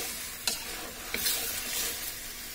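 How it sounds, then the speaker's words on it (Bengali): Chicken pieces frying lightly in a pan for a broiler chicken curry, a steady close sizzle with a few sharp stirring clicks and scrapes, no voices. "আমি একটু হালকা ভেজে নিচ্ছি।"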